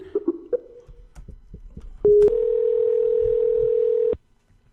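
A steady, loud telephone dial tone holds for about two seconds after a short higher beep, with faint background noise and clicks before it, then stops abruptly.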